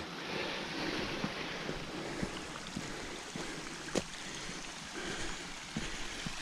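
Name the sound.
water flowing in a forest stream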